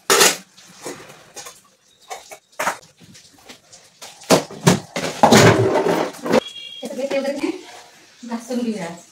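Fridge trays and plastic containers being scrubbed and handled, with intermittent clatter and knocks of dishware at close range, interrupted by someone talking.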